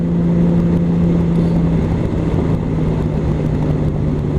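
A Honda Valkyrie motorcycle on Firestone Transforce CV Darkside tires rides curvy roads, producing a steady, loud engine drone with wind rush that holds constant throughout.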